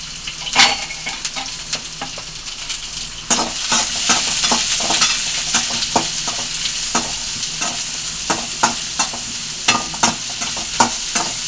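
Onions sizzle steadily in a hot pan with cinnamon and coconut while a spoon stirs them for a chana masala, giving repeated scraping clicks over a continuous bright frying hiss that grows louder after a few seconds, with no talking.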